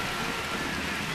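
Heavy rain pours down steadily during a baseball game, a dense, continuous wash of drops hitting the field and surfaces, loud and even throughout with no voices.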